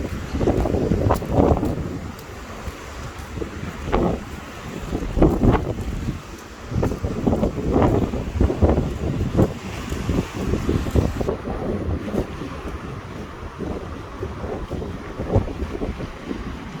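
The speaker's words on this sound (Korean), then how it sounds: "바람이 너무 많이 불어. 파도가 너무 많이 쳐." Strong gusty wind buffets the microphone in loud rumbling bursts, with waves washing in underneath throughout, at Gwakji Beach in Aewol, Jeju.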